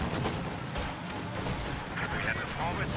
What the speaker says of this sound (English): the first time I've ever seen a bunker destroyed by nothing but small arms fire